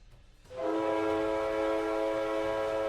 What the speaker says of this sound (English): I have found my whistle sound